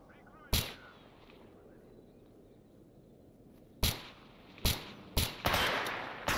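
Gunfire in the video game STALKER Anomaly: a single sharp shot, a lull, then several loud shots in quick succession, with faint ambience between.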